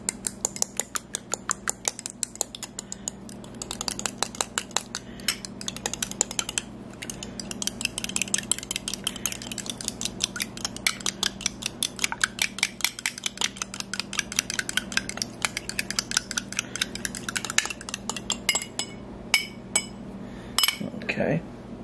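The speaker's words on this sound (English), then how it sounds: "then we want to beat up 2 eggs" Two eggs beaten in a bowl for blueberry muffin batter: a fast, steady run of close metallic clinks and taps from a utensil against the bowl, continuing for most of the stretch with brief pauses.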